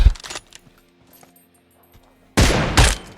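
Gunfire in the mobile game PUBG Mobile, with a short burst of shots at the start, a quiet gap with faint mechanical clicks, then a loud close barrage of rapid shots near the end.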